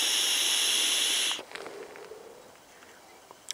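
An electronic cigarette is vaped outdoors on a frozen lake while ice fishing, a loud steady hiss of vapour lasting over a second before cutting off abruptly, followed by quiet breathy exhaling and faint rustling.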